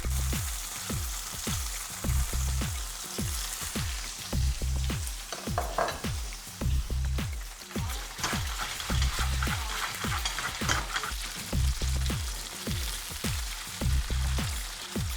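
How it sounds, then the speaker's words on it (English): Vegetarian mock chicken, cut round, pan frying in oil, with a dense continuous sizzle broken by rapid rhythmic spatters and pops, loud and close. "Then got it cut round like this, and then I'm just going to pan fry this."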